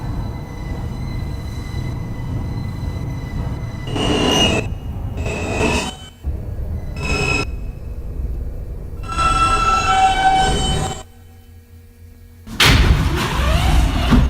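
A Manhattan-bound F local subway train in New York runs through a station in loud bursts of rumble and wheel squeal, with quieter gaps between the passes and a sharp surge near the end.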